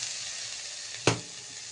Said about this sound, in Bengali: গাজর ক্যাপসিকাম বিনস ভাজা হয়েছে, একটুখানি বাকি আছে। আমি এর মধ্যে মটরশুঁটি দিয়ে দিলাম।